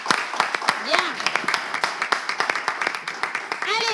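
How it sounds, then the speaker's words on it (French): A studio audience claps for John on a French live show, with scattered clapping and loose applause running throughout under background noise and voices. "applaudir John, s'il vous plaît."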